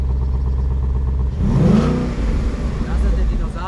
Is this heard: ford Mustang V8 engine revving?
yes